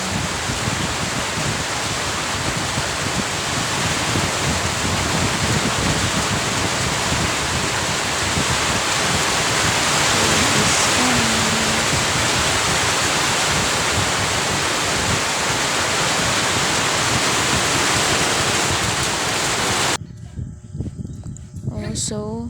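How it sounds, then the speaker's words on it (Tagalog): Steady rain falls over a small home garden planted with sweet potato and corn, a dense even hiss that fills the scene continuously for about twenty seconds before cutting out, with no talking over it. "it's raining again in our place"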